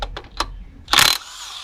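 While 17 mm clutch bolts come off a manual Shelby, a few quick metallic taps are followed by one short, sharp whir of a power tool, then quiet.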